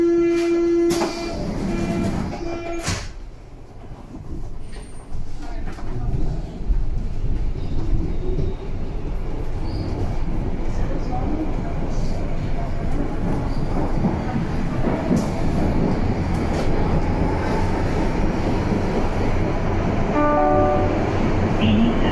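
Berlin U-Bahn line U2 train of type A3L71 departing a station toward Gleisdreieck, a steady rumbling roar of wheels and motors that builds after a brief quieter start and holds loud and continuous, with faint tonal whines near the end.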